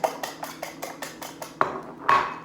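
A whisk beats eggs in a bowl at a brisk, even rhythm of about eight metallic taps, close and clear, followed by two louder clanks against the bowl's side.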